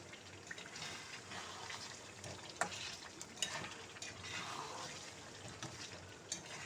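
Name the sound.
stirring fried potatoes into Kashmiri dum aloo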